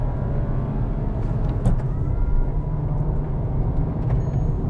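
A Skoda Kushaq SUV under full throttle gives a steady, loud low engine drone with road and cabin rumble that holds constant throughout, with no talking.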